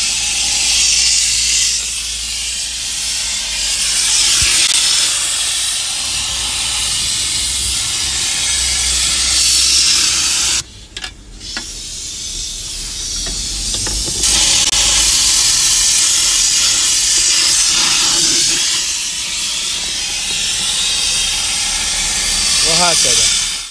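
A steam cleaner blasts the air-conditioner evaporator of a Toyota car with a loud, continuous roaring hiss that runs almost throughout and breaks off briefly once partway through.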